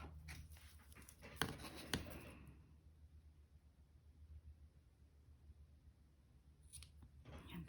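Small ribbon snips cut through ribbon at close range, giving a couple of quick, crisp snips early on and a faint snip near the end against quiet room hiss.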